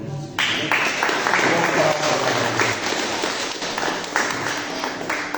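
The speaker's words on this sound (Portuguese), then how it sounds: "Uma salva de palmas para Jesus." A congregation at a church service breaks into sustained applause, a dense crowd of clapping hands that begins abruptly and continues steadily at full volume.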